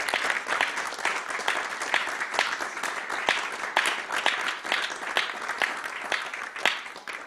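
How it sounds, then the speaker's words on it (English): Audience at a conference session on a government conversion therapy ban gives a round of applause, a dense, steady patter of many hands clapping at moderate distance for several seconds. "Could we have a round of applause for those who have worked today?"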